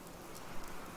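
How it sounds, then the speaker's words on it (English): Rain in the video game Fallout 76, a soft, steady hiss of falling drops with no clear breaks. "It's raining."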